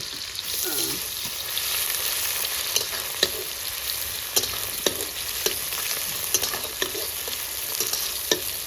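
Onions frying in mutton fat in a dry pan, a steady close sizzle with occasional sharp crackles and spoon scrapes as they are stirred, no talk.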